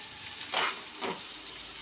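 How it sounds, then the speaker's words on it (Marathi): Thinly sliced onion fries in a pan under a low, even sizzle. Three distinct stirring swishes come at intervals, close and fairly quiet, with no talk. "कांद्याला थोडा वेळ लागतो फ्राय व्हायला"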